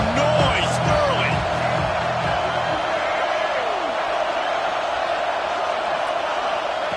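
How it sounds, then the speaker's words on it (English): Roaring football stadium crowd at a college game, a dense, steady wall of loud cheering and chatter with occasional whoops rising above it, continuous throughout. "This crowd bringing the energy and noise early."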